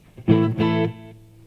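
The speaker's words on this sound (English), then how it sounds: "Then after that, I go into a Jekyll and Hyde distortion pedal." Electric guitar played through a Jekyll and Hyde distortion pedal: two quick strummed chords ring out thick and gritty, then sustain and fade, with no talking.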